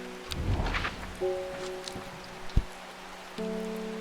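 Soft rain falling in the forest scene of the video game Strange Horticulture, a steady quiet patter under low sustained ambient music tones, with one brief thump partway through.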